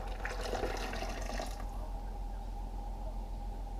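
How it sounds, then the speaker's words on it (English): Liquid is poured into a bread dough mix for a loaf, a splashing pour that runs for about a second and a half and then stops, leaving a quiet room hum. "in goes all of the liquid"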